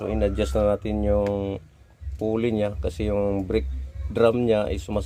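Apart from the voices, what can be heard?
None of the usual background noises is heard.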